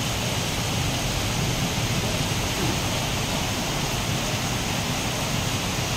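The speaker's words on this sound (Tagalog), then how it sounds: "Ang lakas ng kulog." Heavy typhoon rain pours in a dense, unbroken roar throughout, with a deep low rumble underneath that suggests distant thunder. No voices are heard.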